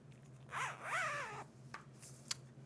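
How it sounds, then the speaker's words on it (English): An invisible zipper on a freshly sewn garment is zipped closed in two quick, close ripping pulls, followed by a few faint fabric clicks and taps in a quiet room. "There we have an invisible zipper."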